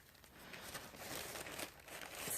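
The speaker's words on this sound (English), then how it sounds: "I'm just going to get that wrinkle out, just gently fold it down." A paper napkin is smoothed and gently folded down during decoupage work on an envelope made from old book pages. It makes a close, soft, continuous crinkling rustle for a couple of seconds, with no voices.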